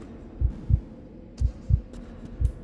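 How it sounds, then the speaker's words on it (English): A heartbeat in the video game SCP-087 thumps as deep, close lub-dub pairs repeating at a steady slow pace, alone over a low ambient hum with faint clicks. "I hear my heartbeat."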